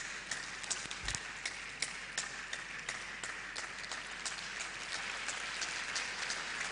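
Audience applause at a digital economy summit in Ogbomoso, a steady, faint patter of many hands clapping throughout, heard from a distance without voices on top.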